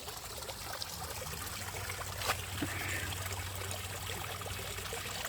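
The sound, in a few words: koi pond water trickling through homemade skimmer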